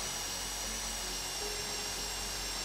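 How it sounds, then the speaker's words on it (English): A steady, high-pitched drill whines continuously through a safe during a heist in the video game GTA 5, sitting close and constant under a low background hum, with no voices. "I'm going to have to drill this?"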